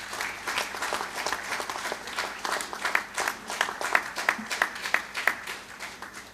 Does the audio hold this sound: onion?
no